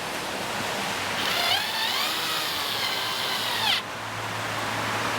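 A power tool drives a bolt with a threaded bracket into a Land Cruiser 79 Series, a steady whirring buzz lasting about two and a half seconds over background hiss, close and moderately loud, then it stops abruptly.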